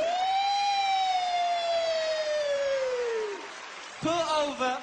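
A stand-up comedian's voice imitates a police car siren with one long, loud sustained wail that slowly falls in pitch, followed by a brief spoken burst.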